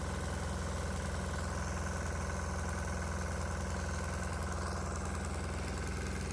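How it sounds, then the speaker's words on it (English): A diesel engine runs steadily under load, slightly choppy and uneven, burning alternative fuel such as vegetable oil, waste oil or ATF; a continuous close rumble with a pulsing knock, no talk. "The engine does sound a little bit choppy, but that's normal for this guy when it's under a load."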